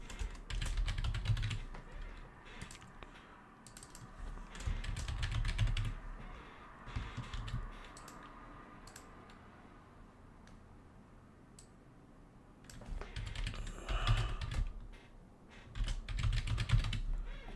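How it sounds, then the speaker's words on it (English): Someone types on a computer keyboard while solving coding problems. Clicky keystrokes come in dense bursts close to the microphone, separated by quieter pauses, with almost no talking. "Sorry, I know the typing is going on."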